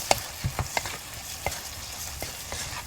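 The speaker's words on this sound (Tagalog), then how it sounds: "Kunti lang natin siyang haluin." Filipino-style spaghetti sauce being stirred in a pan, with scattered soft scraping and knocking of a utensil against the pan over a faint sizzle, close and fairly quiet.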